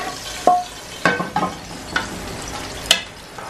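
Hot tempering is poured into pumpkin and chana dal and stirred, bringing a sizzling hiss broken by about five sharp clinks and scrapes of a ladle against the pot, close and without speech.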